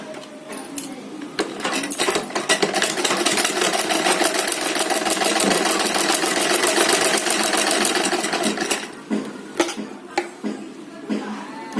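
A sewing machine stitches a suit seam in one sustained, close run of rapid needle clatter, framed by a few clicks and handling knocks before and after.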